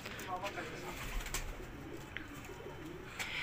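Pigeons at a pigeon keeper's loft coo in a low, steady murmur, with people talking intermittently nearby over the soft calls.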